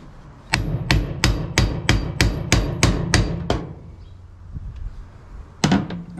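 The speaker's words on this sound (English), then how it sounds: "So we're gonna put some weight on the back of the steering wheel and we're gonna hit the nut." A hammer strikes a steering wheel nut in a series of about ten sharp metallic blows at a steady rhythm, then a pause and one more hit near the end, close and clear with no talk.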